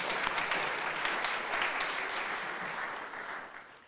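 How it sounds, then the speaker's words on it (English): A church congregation applauds the choir after a music offering, a dense, steady round of clapping close and loud that holds for several seconds before gradually thinning toward the end. "yes, you can clap for that."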